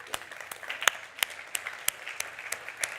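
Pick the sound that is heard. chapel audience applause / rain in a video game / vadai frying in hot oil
chapel audience applause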